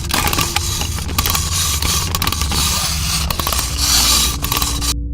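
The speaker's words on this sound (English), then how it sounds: "And Lefty's sound effect is mechanical whirring." Lefty, an animatronic in the FNAF video game, gives off a dense, steady mechanical whirring with grinding, scraping texture and scattered clicks, fairly loud and continuous throughout.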